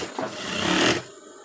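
A sewing machine stitches a petticoat, running in one steady, fairly loud burst for about a second before it stops, leaving a quieter background.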